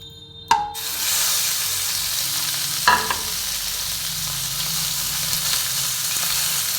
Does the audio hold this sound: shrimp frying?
yes